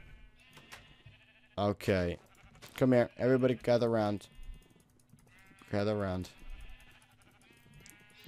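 Sheep in a Minecraft survival world bleat repeatedly in short wavering calls, several overlapping bursts spread across the scene, with a voice calling the animals to gather around between them.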